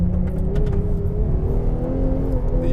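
Ferrari 812 Competizione V12 accelerating hard on the Fiorano track, a loud, steady engine roar with rising harmonics heard from onboard, with no talk over it.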